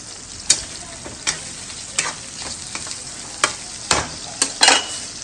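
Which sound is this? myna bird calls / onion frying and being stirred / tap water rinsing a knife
onion frying and being stirred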